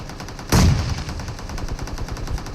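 A short, loud burst of automatic gunfire from a Groza rifle in the mobile video game PUBG Mobile cracks out near the start, followed by fainter scattered shots and game ambience.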